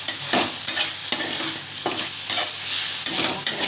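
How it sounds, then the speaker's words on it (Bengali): Leafy greens sizzle in a hot pan while being stirred, a steady frying hiss broken by regular scraping strokes about every half second, close and fairly loud with no talk. "একটু নাড়াচাড়া করে"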